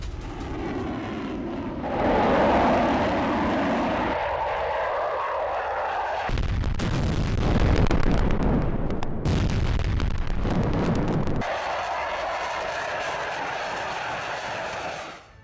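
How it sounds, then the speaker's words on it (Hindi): Heavy booming explosions of FAB-500 aerial bombs dropped by Russia in Ukraine and a roaring aircraft engine, loud and rumbling, with blasts following one another over a sustained deep roar. "रूस ने यूक्रेन में फैब 500 बॉम्ब गिराए हैं।"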